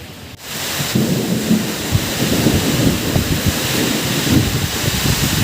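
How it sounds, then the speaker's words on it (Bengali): A strong cyclone storm roars outdoors, with heavy wind buffeting the microphone and rain pouring down in a dense, continuous rush; a sharp gust-like thump opens the sound, and nobody speaks. "যা জোরে ঝড় বইছে এখন"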